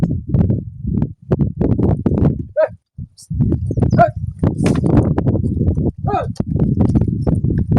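Horse hooves clip-clop steadily on the ground while cattle are gathered down from the mountains. Voices talk over the hoofbeats throughout.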